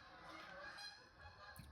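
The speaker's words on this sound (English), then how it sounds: "I hear the geese again" Geese honk faintly in the distance, a brief soft cluster of calls against a quiet background.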